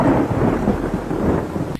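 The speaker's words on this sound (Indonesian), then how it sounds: "Dalam kondisi hujan seperti ini, Riz berteduh di sebuah gua kecil" Heavy rain and deep rolling thunder in a film scene outside a small cave: a loud, dense rumble with steady rainfall that cuts off abruptly near the end.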